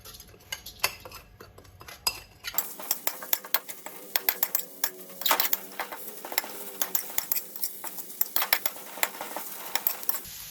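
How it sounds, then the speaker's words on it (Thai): Pounded curry paste hits hot oil and is stir-fried in a pan, a quiet hiss giving way to a busy sizzle with frequent metallic scrapes and clinks of a spatula against the pan. "แล้วก็ใส่พริกแกงที่เราตำไว้ลงไปผัดค่ะ"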